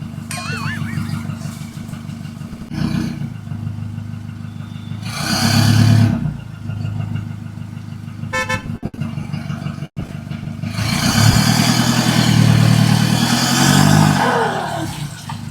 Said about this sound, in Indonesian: Dengan tenaga yang kuat dan suara mesin yang gagah, pick-up terus berjalan perlahan